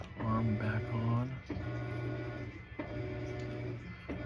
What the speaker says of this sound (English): Boy, that's a loud washing machine.